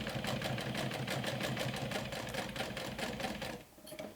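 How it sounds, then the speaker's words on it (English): A sewing machine runs steadily, stitching fabric for a glow-in-the-dark backpack, with a fast, even mechanical whir and rapid needle ticking that slows and stops near the end. "I'm going to stitch right on top of my stitching line from before"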